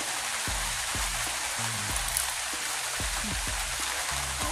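Steady rain falling outdoors near fields being planted with seedlings, a dense continuous hiss with patters and drips close by and no voices.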